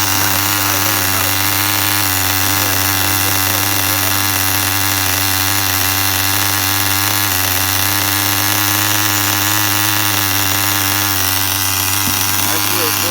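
A Tamiya TGS-R nitro RC car engine idles with a steady, loud, buzzing drone that holds an even pitch throughout, close by and with no talk over it.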